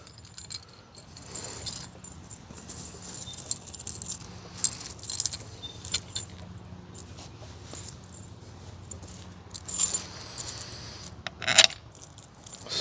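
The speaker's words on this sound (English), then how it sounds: "And then pretty much just put your screws back in." Screws are driven back into a Pentair sand filter by hand, sparse metallic clinks, scrapes and jangles, close and quiet, with irregular bursts and a sharper clink near the end.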